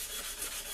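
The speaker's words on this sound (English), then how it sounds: "you'll notice that I don't wet sand, I dry sand" Sandpaper rubs dry across stainless steel trim being repaired for dings and dents, a short close rasping scrub with steady gritty texture and no voices.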